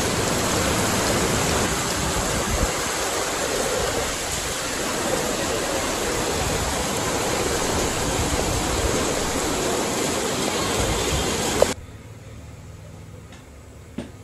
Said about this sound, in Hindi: क्या बारिश हुई भाई